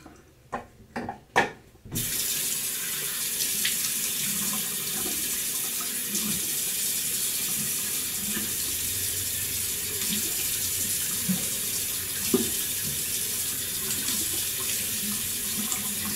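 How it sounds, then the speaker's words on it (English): After a few sharp knocks, a bathroom sink tap runs steadily for a face wash during a wet shave, a continuous close hiss of water with faint splashes and no talk. "I'm gonna wash my face and do a second pass."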